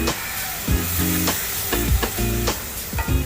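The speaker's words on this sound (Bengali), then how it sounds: "ভালোভাবে মশলাটিকে কষিয়ে নেব।" Spice masala fries with soaked tamarind in a pan, giving a loud, steady sizzle broken by repeated rhythmic scrapes and knocks of a spoon stirring against the metal.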